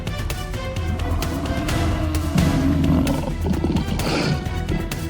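A lion roars during a lioness's attack on prey in the African wild: deep, continuous growling roars with scuffling, crashing struggle sounds, loud and close throughout.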